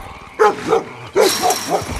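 A dog in a film barks loudly and close in a quick series of sharp, yelping barks, about six in two seconds.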